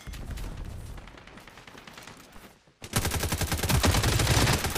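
Rapid gunfire rattles in the HyperFront shooter game, then a louder burst of repeated blasts erupts after a brief drop, sounding like an explosive multi-kill.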